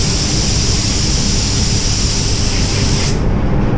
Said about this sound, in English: going to spray right now